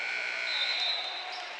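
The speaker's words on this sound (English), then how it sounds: "buzzer sounds" A quarter-end buzzer sounds in a boys' high school basketball gym as one sustained tone of under a second, rising over a steady murmur of crowd noise.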